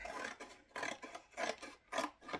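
Scissors snipping across strips of cardboard to make roof shingles for a DIY Shrieking Shack model: five rhythmic, rasping cuts about half a second apart, close and clear.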